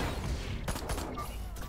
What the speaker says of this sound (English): And then we shoot.